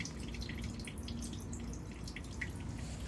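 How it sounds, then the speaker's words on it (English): Water trickling and dripping through a rain garden overflow, a faint, steady close trickle with scattered drips and no speech. "there's water actually flowing through it"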